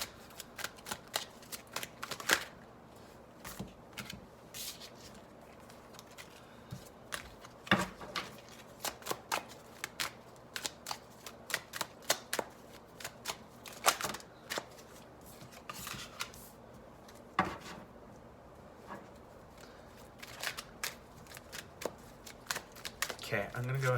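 Tarot cards being shuffled by hand, a quick run of crisp riffling and slapping bursts repeating close up against a quiet background.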